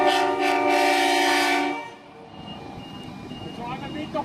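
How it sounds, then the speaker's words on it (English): PHC diesel locomotives leading a passing freight train at Cowan sound a loud, sustained horn blast of about a second and a half up close, followed by rumbling engines and wheels on the rails. "The driver beat the horn at us."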